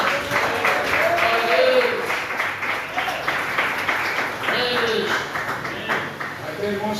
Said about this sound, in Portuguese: Quem bate mais palmas?